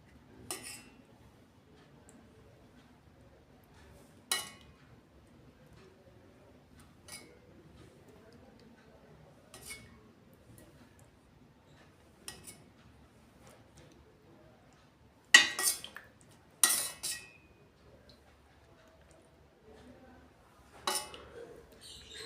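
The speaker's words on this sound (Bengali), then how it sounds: "আর এই মাংস তুলছি" A serving spoon scoops meat curry from a pot, producing faint, sparse metallic clinks and taps spread across a quiet stretch, with a brief cluster of louder knocks near the middle.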